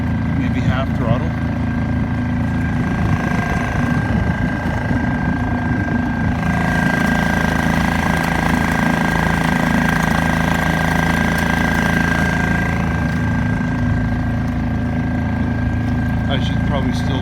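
A Suzuki 2.5 outboard motor mounted on a kayak runs at about half throttle, a steady, loud, continuous engine drone with water and wind noise throughout and no change in pitch.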